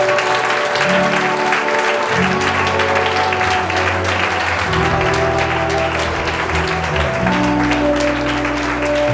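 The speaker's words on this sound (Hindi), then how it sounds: "जोर से ताली बजाकर प्रभु का धन्यवाद करें।" A congregation claps loudly and continuously in thanks to the Lord at a Good Friday church service, dense sustained applause with sustained tonal music or chatter underneath.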